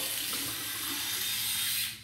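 Tap water running over the head of an electric head shaver, a steady close hiss of flowing water that tapers off at the end.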